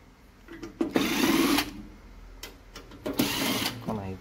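A power screwdriver backs screws out of a four-channel karaoke amplifier, giving two loud whirring bursts with a short gap and a quieter stretch between them. Someone speaks briefly nearby.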